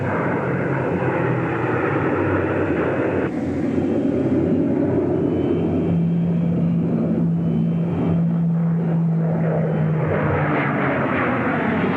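Propeller-driven RAF fighter aircraft in a dive, its engine roaring loud and steady for the whole stretch with a rising, shifting pitch partway through, no voices.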